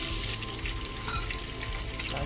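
Garlic paste with cumin and mustard seeds fries in oil, a soft, steady sizzle with light crackle under a low background hum, heard close but fairly quiet.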